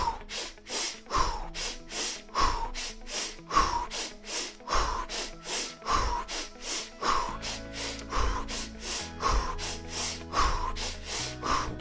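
Rhythmic sniffing breaths during a guided breathing exercise: a steady series of short, sharp nasal inhales and exhales repeating about every second, close and loud, with a faint soft tone entering partway through.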